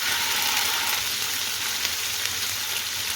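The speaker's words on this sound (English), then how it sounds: "Next, I'm going to add a tablespoon and a bit of ginger and garlic paste. Just stir that in" Ginger garlic paste frying with onions for a lamb naga dupiaza, a steady dense sizzle and crackle throughout, close and even with no talk.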